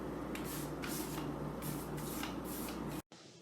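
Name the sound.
plaster sealer being sprayed onto a repaired wall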